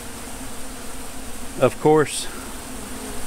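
Yellow jackets and honey bees buzzing around a backyard feeder, a soft insect drone under faint background noise, broken by two brief louder sounds near the middle, with a few words of speech.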